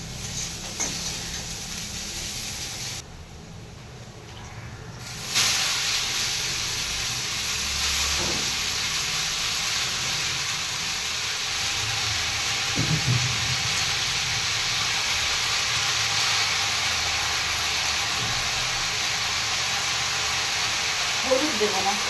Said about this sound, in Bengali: আলুটাকে একটু হালকা হিটে ভেজে নিই।